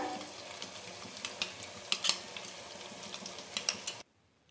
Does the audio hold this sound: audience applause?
no